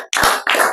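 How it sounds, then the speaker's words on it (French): A congregation in a church claps in praise, a dense burst of applause that breaks briefly and then swells again, loud and full. "Applaudissons pour le Seigneur."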